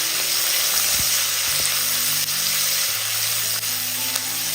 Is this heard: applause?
no